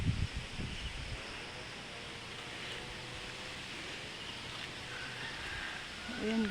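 A light, gentle wind blows outdoors on a road being cleaned after a typhoon, a steady soft hiss with a few faint thumps and a voice near the start.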